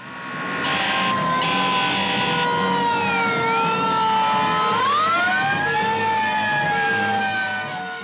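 The 1972 NBC Emergency! TV theme plays loudly, with a fire engine siren wailing and sweeping over the music throughout.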